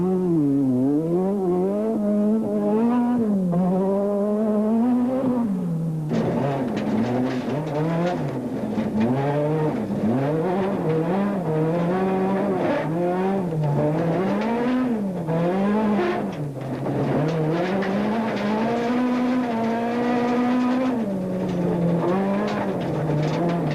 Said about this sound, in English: he powered the Toyota through the forests he knows so well